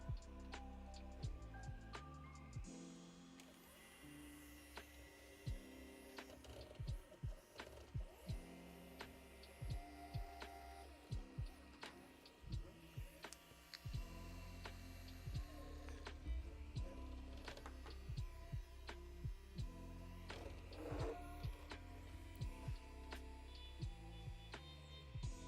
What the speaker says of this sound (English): let's home the printer